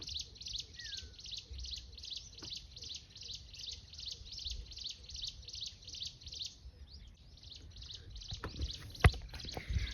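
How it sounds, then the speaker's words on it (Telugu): A steady, pulsing high-pitched chirping continues throughout, with a faint bird call early on and a few soft knocks near the end. "ఇక్కడ ఉన్న పక్షులు ఎలా ఉన్నాయో"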